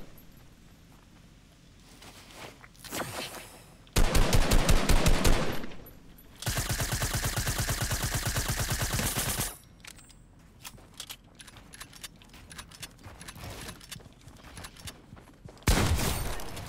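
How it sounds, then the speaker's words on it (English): Gunfire in a video game: loud sustained bursts of rapid automatic shots in two long strings, with scattered single shots and mechanical clicks between them and another burst at the end. "Let me take a bunch of shots at him."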